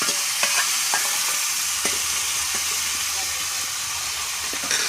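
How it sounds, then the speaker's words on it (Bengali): Meat tipped into a hot kadai over cumin and onion sizzles and hisses steadily, with scraping stirs and clatter on top and a voice talking faintly at times. "ওখানে কড়াই মাংস ঢেলে দিল।"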